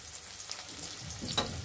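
Black cumin (nigella) seeds fry in oil with chopped onion and green chilies for a pumpkin and prawn curry, giving a soft, steady sizzle that swells briefly near the end.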